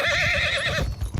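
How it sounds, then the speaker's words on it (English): A horse in the Mount and Blade II: Bannerlord video game neighs once, a short, fairly loud whinny with a wavering pitch that trails off within about a second. "Oh, that's a horse."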